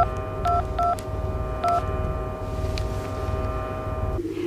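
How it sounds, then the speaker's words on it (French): Three short cell phone keypad dialing tones beep in quick succession over a steady low background hum, followed by a brief quieter stretch and a shift in the ambient drone near the end. "Elle appelle quelqu'un avec un téléphone cellulaire."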